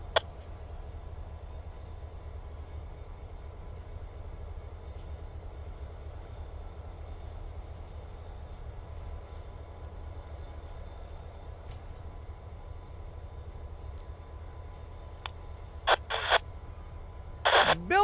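A southbound Norfolk Southern freight train slows to a stop in a rail yard, a low steady rumble at moderate distance with a few sharp metallic squeals near the end.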